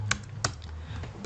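Computer keyboard typing during spreadsheet work, with two sharp key clicks near the start and a few softer taps after, close and quiet over a low background hum.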